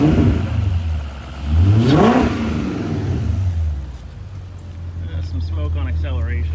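A 1999 BMW E39 540 V8 idles, then gets a quick throttle blip that rises sharply and falls back to a steady idle, recorded close up. Faint whirring follows as the engine settles.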